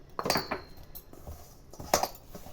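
Dry fruit laddu ingredients tossed and stirred in a bowl, giving a few sharp clinks and scrapes of utensil against the dish at irregular intervals, close up with no voices.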